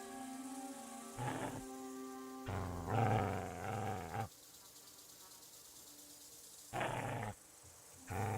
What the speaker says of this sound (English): Dog doesn't like him.